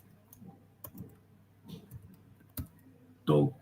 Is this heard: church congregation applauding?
no